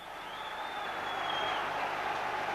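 Capacity football crowd at Celtic Park for Celtic v Rangers, a steady broad roar of many voices with a whistle-like tone rising above, held at an even level throughout.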